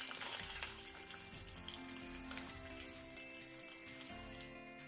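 Coconut pieces frying in oil in a pan for a ginger curry, giving a continuous close sizzle and crackle with a faint underlying hum throughout.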